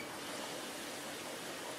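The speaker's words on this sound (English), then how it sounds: "I don't want that to sizzle like freaking crazy like it's going right now" Garlic sizzles in oil in a pan while aglio e olio is being made, a steady, even hiss that stays faint and continuous with no talking.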